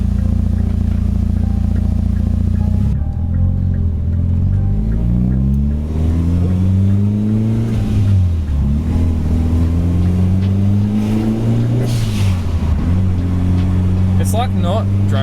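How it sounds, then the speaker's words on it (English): A Mitsubishi Evo with a new Invidia exhaust being driven, its engine droning loudly from inside the car, with the pitch rising and falling through repeated revs and gear changes and a voice speaking over it. "First test drive with the new exhaust."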